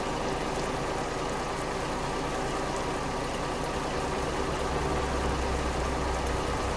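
A truck engine idles steadily in Euro Truck Simulator 2, a constant low rumble that holds at one level from start to end with no voices over it.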